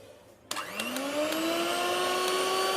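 An electric beater starts up and runs at high speed whipping cream in a bowl, a sudden motor whine that rises in pitch and settles into a steady loud hum.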